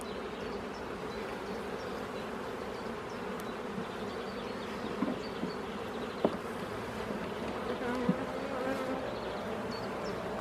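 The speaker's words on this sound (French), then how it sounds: "Beaucoup de jeunes abeilles, hein. Des abeilles grises." Dense, low humming drone of many young honeybees buzzing inside a hive during a spring inspection, steady and close, with a few faint clicks and taps.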